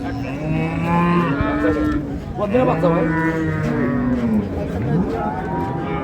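Several cattle moo loudly and repeatedly at a village livestock market in Dinajpur where dairy cows and calves are sold, long overlapping low bellows close by with faint crowd murmur beneath.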